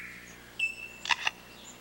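A lyrebird in a forest mimics a camera shutter, giving a brief electronic tone followed by two quick, bright clicking bursts, fairly near and alone.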